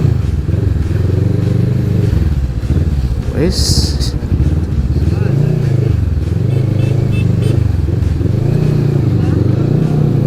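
A Kawasaki Vulcan 650S motorcycle ridden close up and turning right, its engine droning loud and steady with rising and falling revs and wind rush, while the rider speaks briefly over it.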